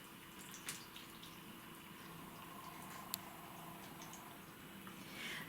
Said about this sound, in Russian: ставим в пустую емкость и наливаем воду сверху